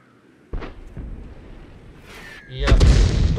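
A French F28 105 leFH18B2 artillery gun fires in a video game, first a sharp booming shot, then a louder second blast with a rolling rumble and debris that rings on to the end.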